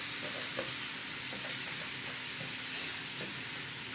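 A cook stirs and mixes biryani rice and lentils in a pot over a steady frying sizzle, with soft, irregular scrapes and knocks of the stirring spoon recurring close by.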